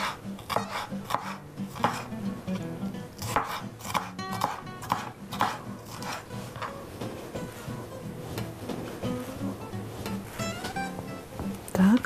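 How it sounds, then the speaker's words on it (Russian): Red and yellow bell peppers diced into cubes on a cutting board, a steady run of close, sharp knife strokes with clattering kitchenware and a voice talking over the chopping. "Вот такими кубиками нарезаем."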